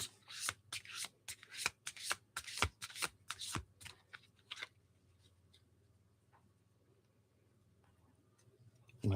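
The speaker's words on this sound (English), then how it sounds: "No, let me shuffle more." Tarot cards are shuffled close up in quick riffling bursts for about four seconds, followed by quieter soft handling and light taps, with no talking.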